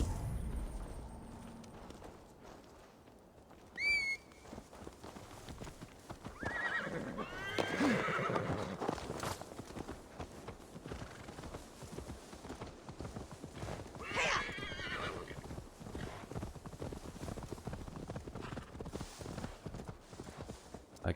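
Horse in Assassin's Creed Valhalla whinnies sharply once, then its hooves clip-clop steadily at close range over ambient game sound, with a second neigh partway through.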